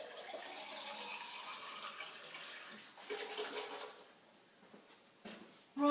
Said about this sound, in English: Oh, I need to get some fresh water